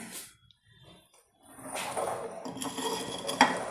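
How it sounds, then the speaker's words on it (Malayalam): A large cooking pot is lifted out and set down in a home kitchen while making potato vada, with a few metallic clanks and scrapes of dishes after a quiet start. "അപ്പോൾ നമുക്കൊരു വലിയ പാത്രം എടുക്കാൻ പോവാണ് ഞാൻ"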